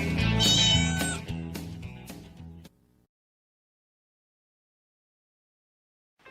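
A domestic cat meows loudly and close for about two and a half seconds, a drawn-out tonal call that fades into silence.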